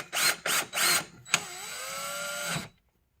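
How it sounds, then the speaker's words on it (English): A power screwdriver whirs in three short bursts, then makes one longer whining run as screws go into a power supply inside an Alienware Aurora R10 Ryzen Edition desktop, close and alone, ending in quiet. "let's get some screws in there"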